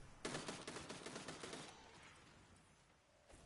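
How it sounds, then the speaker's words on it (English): Rapid automatic gunfire in the video game Destiny 2 rattles in a fast burst of shots lasting over a second, then fades to a faint tail, with a single sharp shot at the very end. "The gunfire is a little spicy for me."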